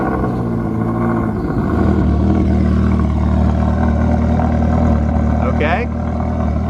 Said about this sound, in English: Cold start of our new Ferrari California in 3